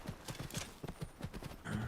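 Hooves of a Fjord horse clip-clop in a steady walking rhythm in Skyrim, about a dozen soft, fairly quiet footfalls ending with a brief snort or whinny-like sound.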